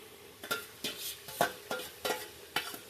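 Vegetables tipped into a pan of frying mutton curry and stirred, giving about seven regular scraping strokes over a soft, steady sizzle, close by and with no voices.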